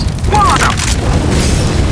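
In a tactical shooter, a thrown Molotov fire grenade lands with a heavy boom and a loud, sustained whoosh of flames, while a player talks over the blast.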